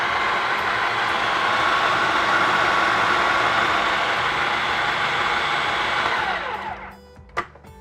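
A food processor whirs steadily as it blends hummus, a loud, constant motor drone that winds down near the end and is followed by a single short clack.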